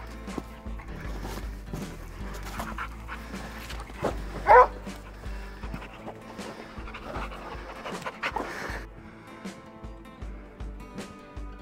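Hunting dogs pant steadily and close by on a Utah mountain lion hunt over dry rocky ground, with a brief sharp yip or whimper midway and faint rustling movement throughout.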